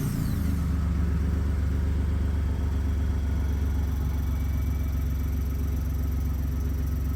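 Ford Expedition (2015-2017) starting cold by remote start with its muffler removed, giving a steady, loud low-pitched exhaust drone and rumble that holds at idle, with no talking.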